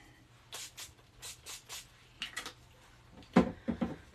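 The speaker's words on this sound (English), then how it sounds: "We're gonna spray again." Short bursts from an aerosol spray can used during cosplay makeup and costume prep: several quick hissing sprays in an uneven rhythm, close and fairly soft, followed by a few louder clattery handling sounds.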